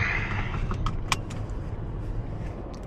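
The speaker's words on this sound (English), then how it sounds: "We're in the Lexus right now." A Lexus car is on the move at night, giving a low, steady road rumble from inside the cabin, with a few small clicks and a jingle like keys near the start.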